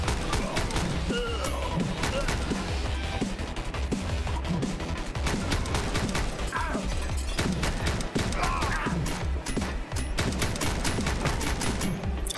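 Rapid, sustained gunfire in a John Wick commute simulator shooter game: dense bursts of close shots crackling almost without pause, mixed with impacts and thuds, with faint speech underneath.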